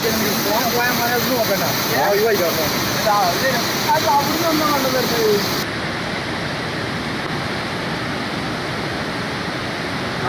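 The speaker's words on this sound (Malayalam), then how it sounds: "അടിപൊളി വെള്ളച്ചാട്ടം അരിപ്പാറ എന്ന് പറയുന്ന വെള്ള വെള്ളച്ചാട്ടമാണ്" Arippara waterfall roaring in the rain, a dense, steady wash of falling water filling the air continuously and loudly, with faint tonal traces over it early on.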